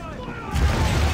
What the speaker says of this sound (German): Das Magazin! Es explodiert!